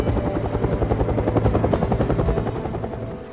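Bell UH-1 Huey helicopter rotor beating loud and steady, a fast rhythmic whop of blades over a continuous engine drone, close and alone without voices.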